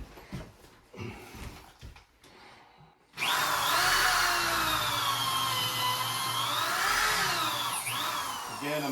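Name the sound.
drill with countersink bit drilling railing into post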